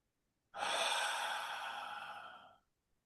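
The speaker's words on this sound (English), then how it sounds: "and just breathing" A single long, deep inhale of breath, close to the microphone, lasting about two seconds and gradually softening before it stops, with quiet surroundings on either side.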